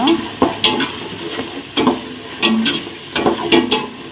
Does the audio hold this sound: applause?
no